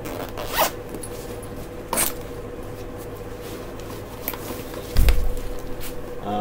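A bag for a mountain bike is unzipped in a few quick, scratchy zip pulls, close up, separated by pauses over a low steady background.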